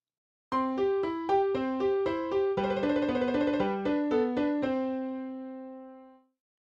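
Rapid, evenly timed piano notes played by a computer alternate back and forth in a mechanical trill, moderately soft, ending on a held note that fades out.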